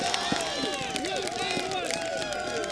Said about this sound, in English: The crowd erupts here